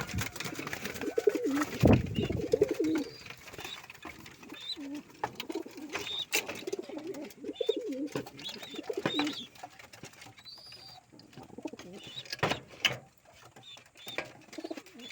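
Several pigeons coo in soft, repeated low rolling phrases, close by and moderately loud, with occasional rustling and brief sharper bird calls mixed in, no talking.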